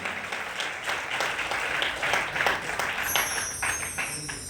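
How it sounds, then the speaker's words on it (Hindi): An audience at a Shiv Puran religious discourse applauds, with steady, moderately faint clapping mixed with voices and a high tone entering partway through. "इनके लिए जोरदार ताली बजाएं"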